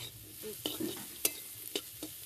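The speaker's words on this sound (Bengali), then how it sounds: "বিন আর গাজরগুলো আমি একসাথে ভেজে নিচ্ছি।" Beans and carrots frying in a pan give a soft, steady sizzle broken by several sharp scraping stirs and clacks from a utensil, close and moderately quiet.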